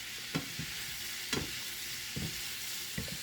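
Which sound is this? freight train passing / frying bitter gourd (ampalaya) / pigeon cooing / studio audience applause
frying bitter gourd (ampalaya)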